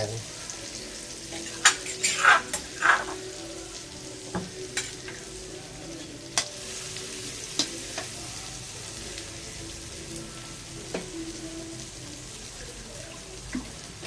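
Dried chilies frying in hot oil, a soft continuous sizzle with a few louder clinks and stirring scrapes early on, then sparse ticks as the frying settles.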